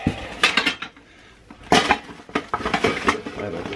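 Camping skillet, pans, bowls and lids clank and rattle in bursts as the cookware is handled and packed, close and irregular with a short pause.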